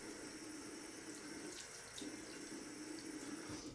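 Tap water runs steadily into a sink during a shave, a continuous close hiss of flowing water with no voices.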